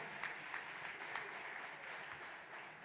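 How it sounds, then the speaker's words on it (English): Audience at an opening ceremony in a history center gives a faint, distant round of applause, steady and continuous with a few sharper claps standing out. "Can y'all give her a round of applause?"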